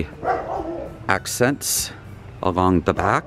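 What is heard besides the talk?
dog barking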